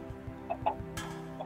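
Chickens cluck in the video game Minecraft, a few short clucks in quick succession, close and clear with no talking.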